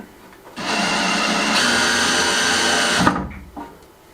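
A power driver runs a screw into a handmade wooden door, a loud steady motor whine lasting about two and a half seconds that rises slightly in pitch before stopping with a clunk.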